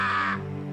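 A single raspy cartoon raven caw, close and clear, fading into a low sustained background tone.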